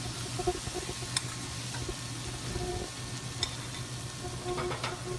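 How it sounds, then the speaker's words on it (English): Shallots fry in a generous amount of butter in a pan, giving a steady close sizzle with a low hum beneath and a few light clicks and stirring scrapes. "for some more butter, just for the purpose of getting my shallots properly cooked"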